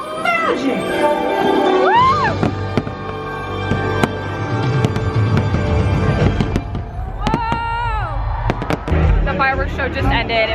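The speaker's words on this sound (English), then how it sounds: "The fireworks are about to start in 4 minutes." Disney World fireworks show at the castle, with loud booms and crackling bursts over park music and excited crowd chatter, whistling rising tones and rapid popping toward the end.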